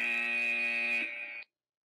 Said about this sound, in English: when we're using the timer and you hear a buzzer